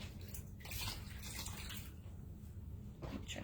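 A chalk-art eraser is dipped and squeezed in a container of water, giving quiet, close sloshing and squelching in a few uneven bursts, with no voices.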